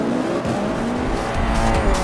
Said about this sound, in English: Forza Motorsport 5 raced in at launch in 2013,